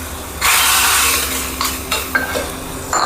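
A hing and jeera tadka for daal sizzles and crackles loudly in a pan as it is stirred, a sudden burst of frying that settles into steady spitting with a few scraping stirs, no voices.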